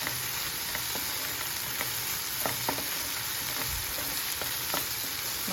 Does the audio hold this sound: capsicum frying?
yes